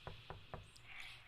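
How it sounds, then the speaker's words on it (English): Three quick, evenly spaced knocks on a wooden door in a visual novel game, faint and close, followed by a soft lingering tone. "Rosa knocked on Gilmay's door carrying a tray of food"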